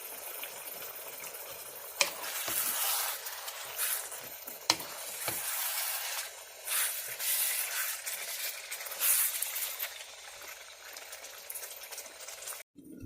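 Chicken korma fries in a pot, degh style, a steady close sizzle and bubbling hiss with a couple of sharp spoon knocks and stirring sounds.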